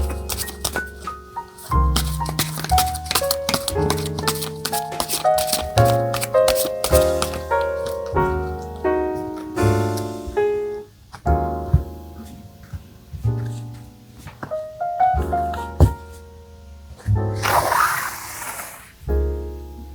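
Tarot cards shuffled and drawn by hand, a long run of crisp riffling flutters and snapping card clicks in uneven bursts, close and fairly loud, ending in a brief rushing shuffle.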